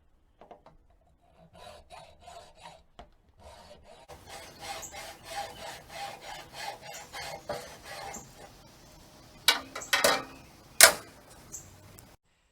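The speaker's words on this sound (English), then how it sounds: "For hard surface installation, you can use a hacksaw to cut off the part of the stake that inserts into the ground." A hacksaw cuts through a garden bed stake for a raised bed, giving a steady run of close rasping strokes that builds in loudness, with a few sharper scrapes and knocks near the end.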